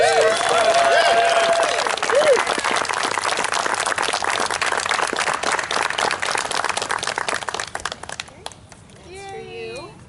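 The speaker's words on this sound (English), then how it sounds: "Please, a giant round of applause." Large audience giving a big round of applause at a resort hotel anniversary celebration, a dense loud wash of clapping with some cheers that fades out near the end before a voice speaks.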